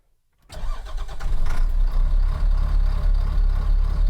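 A CAT 3126 diesel swapped into a Ford F350 truck cranks after a short silence, catches and settles into a loud, rumbling idle with a steady low throb.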